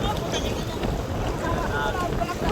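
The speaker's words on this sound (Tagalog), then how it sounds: "malakas na yung hangin" Strong wind roars and buffets the microphone on a boat at sea, a constant rushing noise with water sounds beneath and faint voices in the background.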